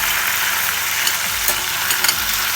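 Soy sauce and vinegar sizzle hard in a hot frying pan, a loud, continuous hiss with a few short stirring knocks and scrapes near the end.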